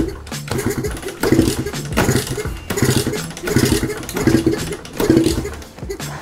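A Kawasaki Ninja two-stroke motorcycle that sat unused for two months cranks and sputters as it tries to start, with repeated bursts of uneven engine pulsing close by and no one talking.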